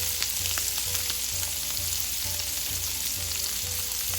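Bamboo shoots with a little salt fry in a pan of hot oil, a steady dense close sizzle with faint crackles throughout and no speech.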